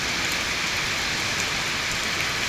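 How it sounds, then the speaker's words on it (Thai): Steady, dense rain pours down over a rice field freshly dressed with fertilizer, a continuous close hiss of drops with no other sounds. "ฝนก็ตกใส่พอดี"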